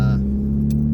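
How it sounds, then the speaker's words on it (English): A car with a muffler falling off drones with a loud, steady low engine rumble throughout, with a brief voice at the very start. "My car's a little noisy. My muffler is falling off."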